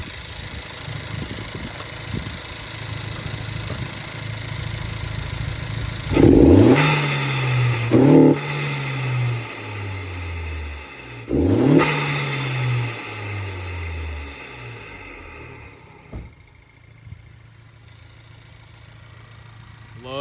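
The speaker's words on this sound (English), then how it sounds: "I'm going to put my phone right next to the intake so you can hear the induction noise is really loud." An 11th-generation Honda Civic fitted with a hybrid cold air intake, recorded right beside the intake: a steady idle broken by two sharp revs that swell with loud induction roar and fall away, with no talking.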